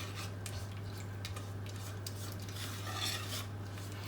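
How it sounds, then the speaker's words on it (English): Butter and sugar melt in a pan for gingerbread while being stirred, with soft, steady scraping and clinking over a constant low hum and no talking. "Give it a stir around."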